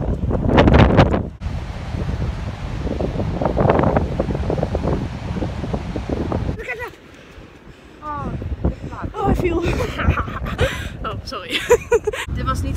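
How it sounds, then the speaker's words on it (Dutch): Heavy wind buffets the microphone in loud gusts, with a person speaking through the rumble and a brief calmer stretch midway. "Ik weet niet eens of je me kan horen door de wind"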